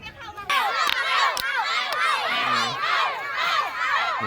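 A crowd of supporters, many of them children, cheers and shouts at a community football match, with loud, continuous, excited yelling close by.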